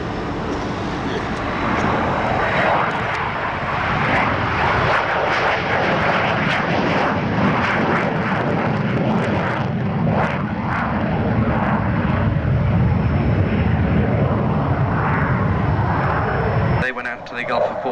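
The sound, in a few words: Buccaneer jet aircraft flying past at an air show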